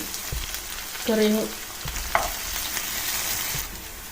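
Urad dal, cumin and onion fry in oil in a kadai, a soft, steady sizzle close by, broken by a few spoon stirs and clinks against the pan, with no talking.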